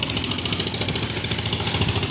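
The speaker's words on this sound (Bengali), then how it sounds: "এই যে ট্রলার" A fishing trawler's diesel engine chugs in a fast, steady knocking rhythm, loud and close, with no talk over it.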